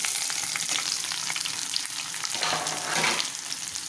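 For a radish sambar, garlic cloves and onion fry in hot oil in a pan with a steady, dense sizzle, close and fairly loud, and brief rises as the pieces are stirred.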